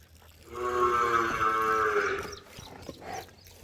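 A buffalo and a cow fight nearby: a long, deep moo, loud and drawn out, followed by a shorter grunt and some shuffling.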